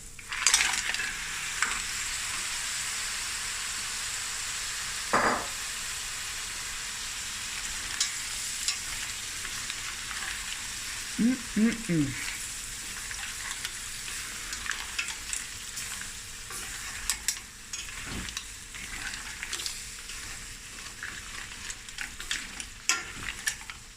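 A kilogram of mussels fries and is stirred in a pan of creamy curry, a steady close sizzle running the whole time, broken by a few scraping stirs and clinks.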